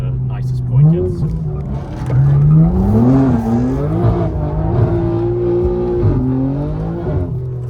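A BMW M3 drifts along narrow Scottish Highland roads, its engine droning and rising and falling in pitch as the throttle is worked through the slides, loud and close from inside the car.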